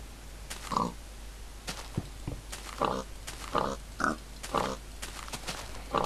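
Pig from a mob spawner in Minecraft SkyBlock, repeated short grunting oinks close by at irregular intervals, about eight in succession, with faint background clicks.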